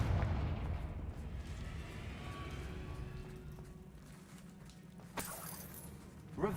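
A Confringo spell blast in the Hogwarts Legacy video game lands as a deep, booming explosion that rumbles and fades over several seconds, followed by a couple of sharper bursts.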